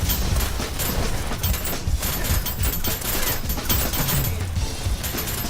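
Rapid gunfire in a VR arena shooter match, dense overlapping blasts and crashes filling the whole stretch at high level, with no clear talk.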